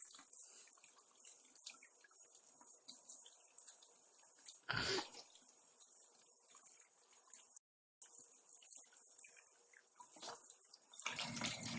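A tap runs steadily as soapy hands are rinsed beneath it, a quiet continuous hiss of water interrupted by a brief louder splash and a momentary gap.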